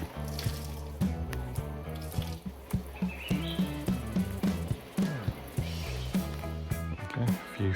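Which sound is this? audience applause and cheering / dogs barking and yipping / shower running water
shower running water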